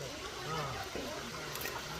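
Water flows continuously over a Shiva lingam inside a cave, a steady broadband rush and trickle with a voice speaking over it.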